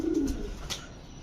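Homing pigeon giving a brief soft coo, close by, with a faint low rumble behind it and no talk.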